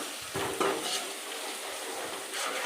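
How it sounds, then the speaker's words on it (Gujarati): Garlic and ginger sizzle in hot oil while a spoon stirs them in a pan, the close crackling frying steady with a few scraping stir strokes, no talking. "લસણ અને આદું નાખી દીધું છે તો થોડી વાર હલાવીએ"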